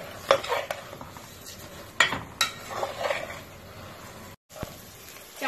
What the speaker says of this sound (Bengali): এবার আমি চালের সাথে খুব ভালো করে একটু ভেজে নিচ্ছি